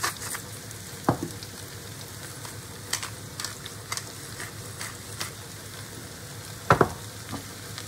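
Seasoned zucchini in a pan is stirred with a soft, steady frying sizzle beneath, broken by a few sharp scrapes and clacks of the utensil against the pan, close and fairly quiet.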